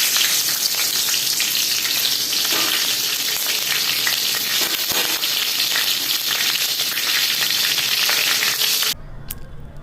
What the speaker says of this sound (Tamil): இதில் எண்ணெய் காய்ஞ்சதும் ஒரு பச்சை மிளகாவை போட்டுக்கிறோம்.